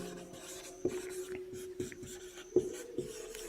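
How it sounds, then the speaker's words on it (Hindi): Chalk or marker scratches across a board during a class 12 physics lecture on electrostatics, in short strokes and taps at an irregular pace, close and fairly quiet, with faint room hum and no talking. "यहाँ पर लिखेंगे इसकी डेफिनेशन"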